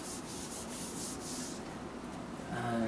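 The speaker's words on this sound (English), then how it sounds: "I'm being quite liberal with this, but rubbing it into the grain." A cloth or hand rubbing finish into the grain of a turned maple burl bowl, a steady close, soft scuffing friction that swells slightly toward the end, with no talk.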